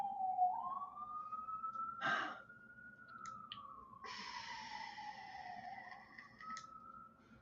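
An emergency siren wails outside, sweeping slowly up and down at a moderate distance, with breathy sighs and a few brief rustles close by.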